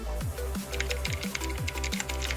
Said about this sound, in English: I'm just typing that to the players